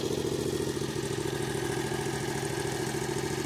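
A buggy engine runs at a steady idle, a close, even, mellow thrum with a fast regular pulse and no pauses.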